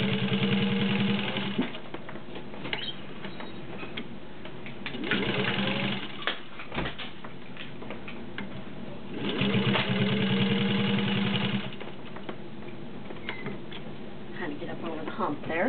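Rare blackside Singer 15-91 sewing machine stitching through six layers of denim and three layers of garment leather, running in steady whirring bursts with pauses between, close and prominent; a voice speaks briefly during the gaps.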